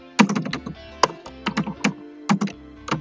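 Typing on a computer keyboard while writing out a resume line, with irregular bursts of close, crisp key clicks and thunks separated by short pauses.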